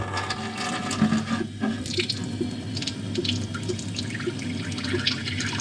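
Water runs steadily from a tap into a Euro tray sprouter, filling it to rinse soaked sprouts, a continuous close splashing flow with faint drips and clinks over a low hum.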